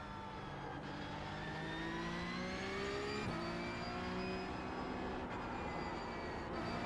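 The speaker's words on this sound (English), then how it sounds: "Car sliding to the left." Engine note of a Porsche 911 Cup (992.2) race car in a racing video game at Hockenheim, sliding on worn tyres, a steady loud revving drone with shifting pitch and a brief gear-change blip midway, no talk.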